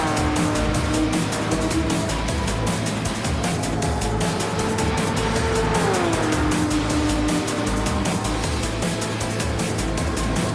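Race cars on a racetrack roar continuously at close range, engine pitch rising and dropping through gear changes, with faint tire noise under the dense, steady engine din.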